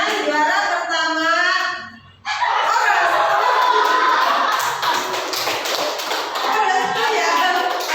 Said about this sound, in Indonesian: tepuk tangan untuk Anita